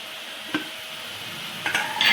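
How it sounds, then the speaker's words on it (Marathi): Mixed vegetables stir in a simmering spicy curry gravy, a soft steady bubbling hiss with a couple of brief scraping knocks from a spoon against the pan, close and moderately quiet. "दोन मिनिटं छान त्याच्यामध्ये परतून घेऊ"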